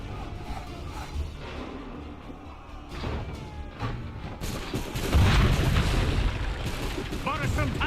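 Battle in Assassin's Creed III with cannon booms and scattered gunfire crackling over rumbling ambience, swelling louder in the second half with sharp crashes, while voices speak under the noise.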